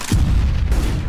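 CS:GO match with dense, booming gunfire in a brief continuous burst, loud and close.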